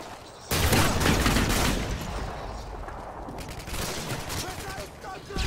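A minigun roars in Modern Warfare 2 on the Skidrow map, bursting in suddenly after half a second and holding as a loud, dense, continuous stream of fire to the end, with some talk over it.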